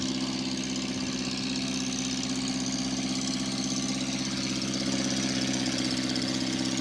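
A John Deere 3020 tractor engine runs in first gear at a barnyard tractor pull with a steady, throbbing low drone and a rough, knocking edge, continuous and fairly close throughout.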